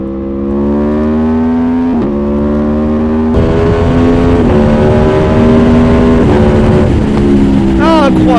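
An Aprilia Tuono V4 motorcycle fitted with an Akrapovic exhaust line revs hard through the gears, a loud, close engine note rising steadily with brief dips at each shift.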